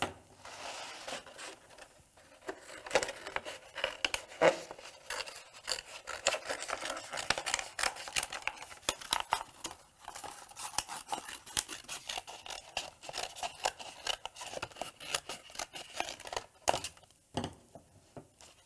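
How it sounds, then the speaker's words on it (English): Scissors trim a sheet of infusible ink transfer material for a custom Cricut tote bag: a steady run of close, dry snipping and rustling cuts that continues without any talking. "I'm just gonna trim it down so it's a little bit easier to work with"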